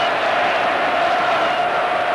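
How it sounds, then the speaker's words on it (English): Large stadium crowd at a 1987 Argentina v Australia rugby test match roaring in jubilation, a dense steady wash of cheering that stays loud throughout. "There is absolute jubilation in the crowd."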